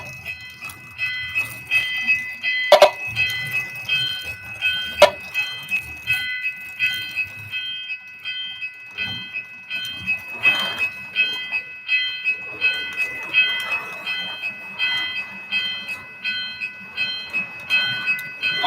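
A live-steam model train locomotive runs on its track with a regular, rhythmic chuffing pulse and a steady high ringing hiss, broken by two sharp metallic clanks early on.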